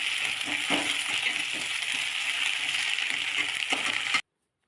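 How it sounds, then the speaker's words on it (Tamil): Mint leaves sautéing in a pan with tomatoes and green chillies for pudina chutney, a steady close hiss with faint stirring clicks, no voices, ending abruptly. "புதினா இலையை போட்டு நல்லா வதக்கிக்கலாம்."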